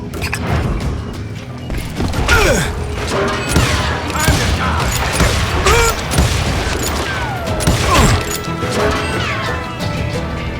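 Gunfights in the Western shooter Call of Juarez Gunslinger, with irregular loud gunshots, crashes and impacts that keep coming in a chaotic stream over a busy game soundscape.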